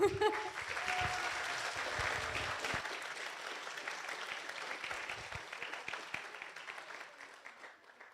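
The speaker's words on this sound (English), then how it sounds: "Applause." An audience at a business plan presentation final bursts into steady applause, a broad wash of clapping that holds for several seconds and gradually thins out toward the end.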